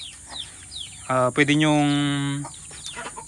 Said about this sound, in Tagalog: Yan o, mga manok nating native.